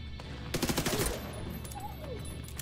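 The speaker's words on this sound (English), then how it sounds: "So we can melt them with our MP5. Man, this gun's deadly." Rapid bursts of MP5 submachine gun fire in the shooter game The Division 2, a short quick volley at moderate loudness followed by quieter ambient game sound.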